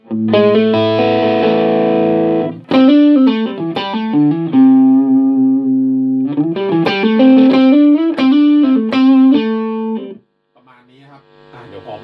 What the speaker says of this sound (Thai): เราเปิดเป็นดูอัลโทนนะครับ มันจะมีเสียงคลีนติดมาด้วย